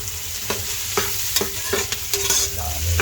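Onion and garlic sauté in a pan for balbacoa, with a steady sizzle under sharp, evenly spaced clacks and scrapes of a stirring utensil against the pan, close and fairly loud.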